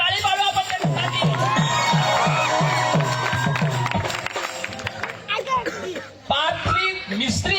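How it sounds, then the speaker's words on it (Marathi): An audience claps rhythmically at a Dangi Tamasha folk performance in Ahwa, over crowd murmur and music, with a voice speaking loudly over the sound. "टाळी पाडू आपण त्यांच्यासाठी"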